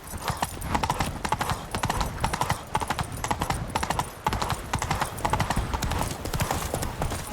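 Horse hooves clip-clopping in The Witcher 3 video game, a loud, close, steady stream of sharp hoof strikes in quick rhythm lasting the whole stretch.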